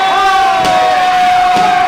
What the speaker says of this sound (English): These fans here cheering USA